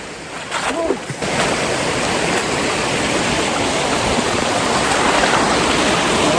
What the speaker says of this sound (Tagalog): Naririnig ko na naman yung familiar na ingay ng tubig.